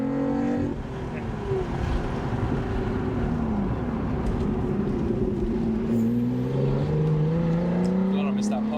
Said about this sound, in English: You get the blips on the downshifts and